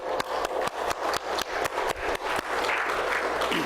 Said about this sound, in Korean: 우리 하나님께 잠깐 박수로.